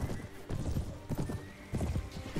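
Horse hooves clip-clop in a rapid galloping rhythm within a Mount & Blade: Warband battle, with several mounted riders and camels, repeated bursts of thudding hoofbeats rising and falling alongside an occasional whinny.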